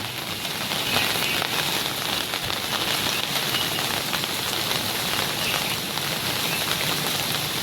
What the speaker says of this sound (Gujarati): તમે જોઈ શકો છો અત્યારે વરસાદ ચાલુ જ છે